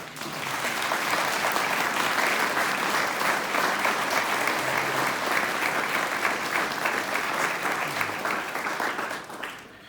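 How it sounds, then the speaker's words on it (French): Sustained, dense applause from a large crowd at a pilgrimage farewell for priests, steady and loud for the whole stretch before tapering slightly at the end. "Aujourd'hui, c'est bien l'occasion d'applaudir nos doyens, Joseph, Guy, Benoît et Jean-François"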